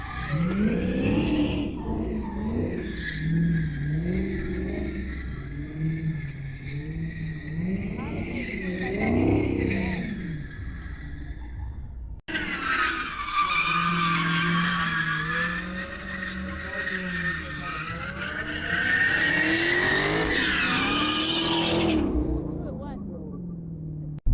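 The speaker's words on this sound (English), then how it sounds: "everybody's distracted by that sound over there. They're racing on the track." Loud drifting car engines rev and skid on a track at a Mecum car auction event in Kissimmee, tires squealing as cars pass, with a brief cut midway.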